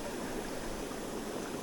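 A stream flows over rocks in Vietnam, a soft, continuous rushing and babbling, quiet and even throughout a short stretch, with no voices.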